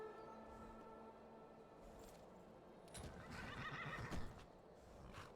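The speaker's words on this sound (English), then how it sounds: "We're gonna call our horse." Horse in a video game whinnying after being called, a clear neigh followed by clip-clopping hooves approaching, fairly quiet against a soft ambient background.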